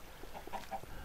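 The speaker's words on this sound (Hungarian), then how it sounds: "Ne félj, nem bánt a kacsa" A duck gives a few soft, short quacks at an even pace over a low, steady background, faint and without any talking.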